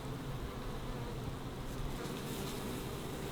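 Honeybees buzzing steadily around a hive, a dense close swarm hum with no voices.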